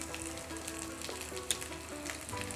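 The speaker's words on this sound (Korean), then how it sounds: "정민이 정진이 챙겨주려고 굽고 있습니다" Busan-style jeon pancake frying in a hot oiled pan, a steady close sizzle with faint crackles and a small tap in the middle, no voices.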